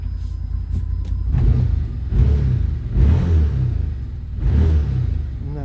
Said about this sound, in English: Come over here and rev it up.